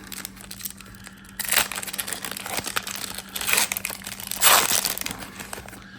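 Wrappers of old junk wax era sports card packs crinkle and tear open up close, with bursts of crackling plastic and louder ripping swells between quieter handling.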